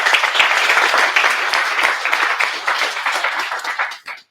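Warm applause from a seated audience at a product talk, many hands clapping densely and steadily for a few seconds before fading out abruptly.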